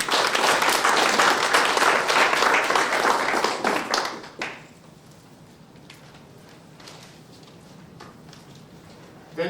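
A round of applause from an audience at an alumni chapter induction ceremony, loud and dense for about four seconds before dying away into a quiet room, with a brief sound at the very end.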